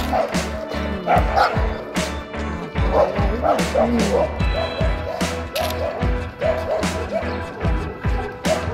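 Several dogs barking and yipping repeatedly outdoors in a small park, loud and close, in rapid overlapping bursts with some whimpering and faint voices underneath.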